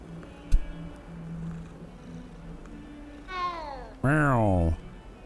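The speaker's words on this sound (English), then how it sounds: "Just another kitty." Two cat meows from the video game Hogwarts Legacy near the end: a short one, then a louder, drawn-out meow, after quiet background hum and a faint click.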